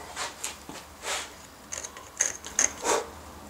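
A sharp chisel pares clean walnut in a tight space, giving a series of short, crisp scraping cuts, some quick double strokes, close and fairly quiet with no talk.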